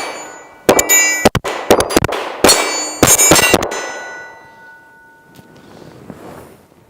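Glock 43x pistol shots ring sharply off a steel target, a rapid string of about a dozen loud metallic clangs in uneven bursts, then a fading ring and quiet.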